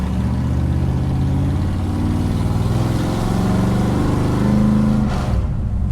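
A 1962 Dodge Dart with a 413 Max Wedge V8 pulls away from a stop, its deep, throbbing exhaust rumble steady and loud from inside the car before cutting off abruptly near the end.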